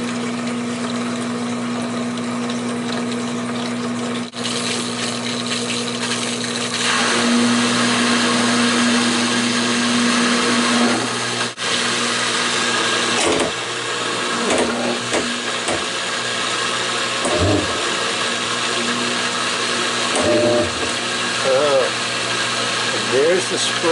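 A Kenmore top-load washing machine, leaking and under repair, runs its spin cycle with a loud, steady motor and pump drone, water sloshing and spraying, and a few clunks partway through.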